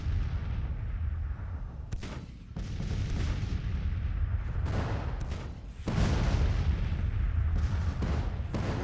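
Civil War artillery firing in the strategy game Grand Tactician: The Civil War, a steady barrage of repeated booming cannon shots over continuous low rumble, some nearer and sharper, others distant.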